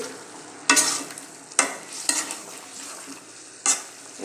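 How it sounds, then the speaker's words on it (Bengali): Hilsa fish curry with winter vegetables is stirred in a pan after the lid comes off. A spatula scrapes the pan in loud, separate bursts over a low, steady simmering sizzle. "ঢাকনাটা খুলে কিছুক্ষণ পরে একটু নাড়া দিয়ে দিতেছি"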